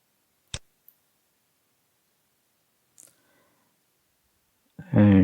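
Mouse button clicks on a computer while testing a web page button in Internet Explorer: a sharp isolated click, a fainter tick, another soft click, then a brief burst of voice at the end.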